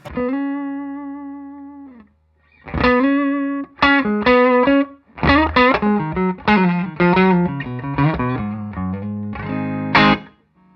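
A Telecaster electric guitar on its neck pickup plays through a silvery boost pedal with its volume rolled back, giving mildly driven tones. A held note comes first, then a lively run of single notes and chords, loud and alone.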